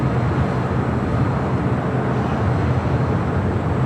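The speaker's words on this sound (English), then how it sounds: "Southwest Airlines Flight 2209 heading to Oakland, 737 MAX 8 in the Desert Gold" A Southwest Airlines Boeing 737 MAX 8 in Desert Gold retro livery at LAX gives a steady, broadband engine roar that holds even and continuous, moderately loud, with no voices over it.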